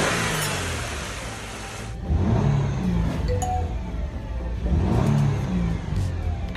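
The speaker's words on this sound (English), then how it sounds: "It sounds like a cat or something whining underneath the hood. Only happens when the engine is running." A car engine runs under the hood with a whining tone as the revs rise and fall, the motor swelling in two louder surges over a steady idle hum, with no talking.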